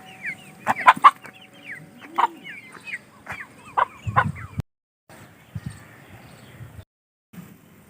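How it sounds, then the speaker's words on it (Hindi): Chickens and chicks cluck and cheep in short, repeated bursts, close by, with brief pauses and a few louder calls mixed in. "ये देखें मुर्गियों के बच्चे,"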